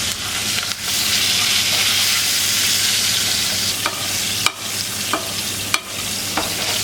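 Confit browns in a hot pan with a loud, continuous sizzle, broken by a few sharp clicks and scrapes of a utensil moving it around.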